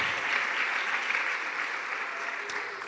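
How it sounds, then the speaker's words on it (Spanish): Church congregation applauding together, a dense, steady wash of clapping that holds at an even level for a few seconds without pause. "¿Puede darle gloria a Jesucristo y aplauso al Padre, al Hijo y al Espíritu Santo?"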